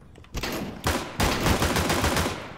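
Dual pistols fire in rapid bursts in a video game, sharp close shots coming in quick clusters, with a short gap before a heavier sustained volley that rattles on to the end.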